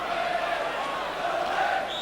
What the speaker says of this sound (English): The Luton crowd, as you can hear at home, have certainly got behind their team now.